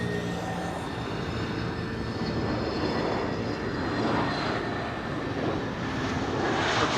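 An airliner's engines roar steadily at a distance at Amsterdam Schiphol Airport, a continuous moderate jet rumble that swells slightly toward the end.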